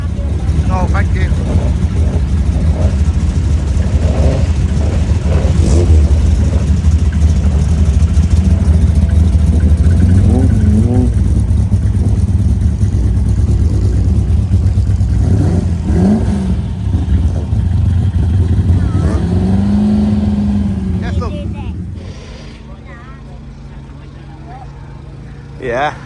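A car engine at a Donington Park racing meet drones loud and steady near at hand, rumbling deep for about twenty seconds before cutting off, with voices talking over it.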